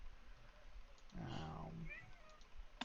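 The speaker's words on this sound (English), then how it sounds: "Yeah, it's my cat." A house cat lets out a single drawn-out meow, fairly close and clear over faint room noise, with a brief click at the end.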